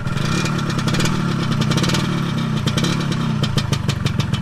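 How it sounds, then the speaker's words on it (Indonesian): The original exhaust of a 1995 Yamaha RXZ motorcycle idles close by, with a loud, steady two-stroke burble and crackle and a slight rise in revs toward the end, without any talking. "Lihat dong suara knalpotnya."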